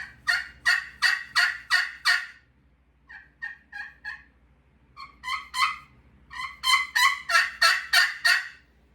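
A Woodhaven friction turkey call worked with a Ninja striker of yellow heartwood gives a mellow, rhythmic series of yelps and clucks in several clean runs, some soft and some louder, close up and without voices.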